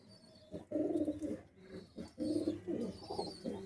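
Red Bull pigeons coo close by in low, throaty rolling calls, several overlapping phrases in quick succession over quiet background.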